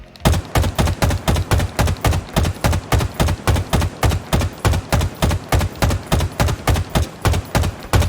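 Assault rifle in Halo Infinite fired in single shots, a loud, evenly spaced run of about twenty sharp reports at a steady rapid pace with no pause, each a punchy close crack.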